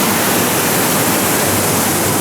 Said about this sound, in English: I love water features in theme parks, and even if we're not in the theme park, I still love water features.